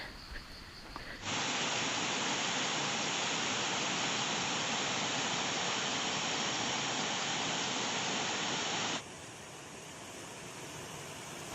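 Huai Khe waterfall running with lots of water, a steady, dense broadband rush heard close and loud for several seconds, with quieter ambience before and after.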